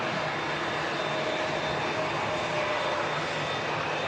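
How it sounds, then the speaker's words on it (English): An EasyJet Neo airliner on final approach to touchdown at Manchester Airport gives a steady, loud broadband engine roar with a faint high whine, constant over the whole stretch with no talking. "And here's the EasyJet Neo, just about to touch."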